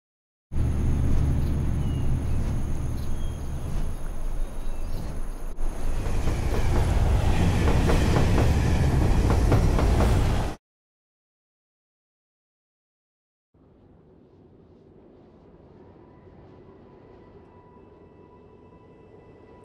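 A freight train rolls on rails with a loud, close rumble and rhythmic clickety-clack for about ten seconds. After a silent gap, a fainter, more distant rail drone returns.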